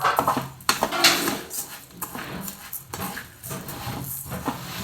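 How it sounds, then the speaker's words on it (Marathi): Parboiled rice is dry-roasted in a pot on a pan with repeated scraping and clattering of a utensil against metal, irregular close knocks over a faint hiss, with no talking. "नाल्ल काळें गोड आनी उकडे तांदूळ घेयले आनी आतां ते कायलीचेर हांडयेन बरें भाजून घेता"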